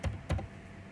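Two quick clusters of keystrokes on a computer keyboard, close and crisp, then quiet room tone.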